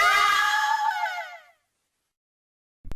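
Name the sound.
woman screaming for help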